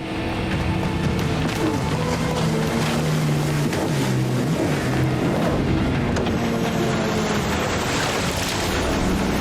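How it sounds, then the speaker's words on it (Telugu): Motorboat engine in an animated chase scene, a steady droning hum that runs loud and unbroken throughout, with wash and splashing water mixed in. "వాళ్ళు ఆ మోటార్ బోట్ లో ఉన్నారు"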